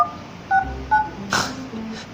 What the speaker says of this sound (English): Let me dial this number.